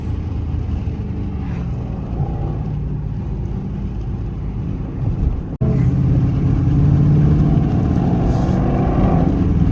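Dodge Charger R/T engine and exhaust droning steadily while driving, a continuous low rumble that dips briefly and then returns slightly louder, with no talk over it.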